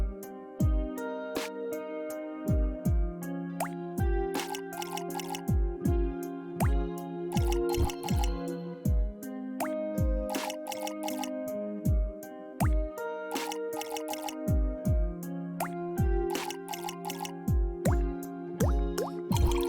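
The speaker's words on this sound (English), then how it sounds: "Come on, let's water some plants with me." Plants are watered in the rhythm game Melatonin, producing rhythmic plopping and dripping water sounds timed to a bright musical backing. Crisp droplet hits recur in a steady beat throughout, with no voices.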